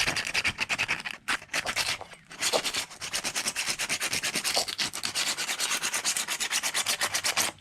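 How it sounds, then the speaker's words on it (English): Coarse 24 to 36 grit sandpaper scrubs the inside bore of a BMW E46 325xi front lower control arm, a close, steady rhythmic rasping of fast back-and-forth strokes that pauses briefly near the start. "Some coarse sandpaper, and you want to rough up some of the inside bore here"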